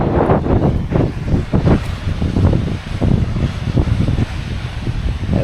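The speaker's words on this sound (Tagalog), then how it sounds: "Malakas ang hangin." Strong wind buffets the microphone in a steady roar with gusty low rumbles, close and loud throughout, with no talking.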